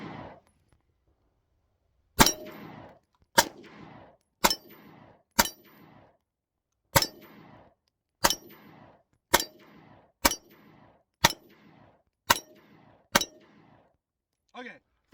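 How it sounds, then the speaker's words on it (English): Ruger Max-9 Gen 1 pistol shots ring off a steel target outdoors, about ten sharp reports at uneven one-second gaps, each followed by a ringing metallic clang, with a brief voice at the end. "We're going to start with the Gen 1 yet again, and just put a couple rounds on this steel target."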